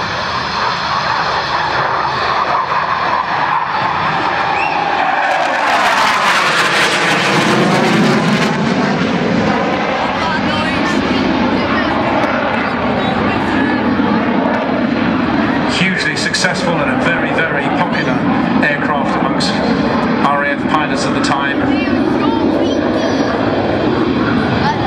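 A Hawker Hunter jet, built as a Mark 9 and converted to a Mark 58A for the Swiss Air Force, roars past at East Fortune Airshow. A loud, sweeping engine pass rises and fades beneath continuous commentary.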